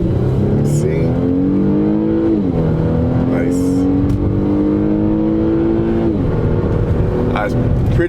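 A 2016 Mercedes-Benz E350 climbing a hill under acceleration, its engine note rising steadily in pitch for several seconds, dipping briefly, then climbing again as it pulls hard, heard from inside the cabin with a voice speaking over it.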